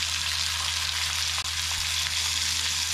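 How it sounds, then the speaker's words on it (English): Pompano fish pan-frying in oil over medium heat makes a steady, close, dense crackling sizzle that holds constant for a few seconds, with no voices over it. "So I reduce the heat to medium and just let it cook for a while until it's golden brown."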